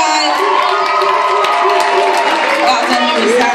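An audience at a college performance event claps and cheers loudly and continuously, with excited shouting voices, some sounding like children, rising over the applause.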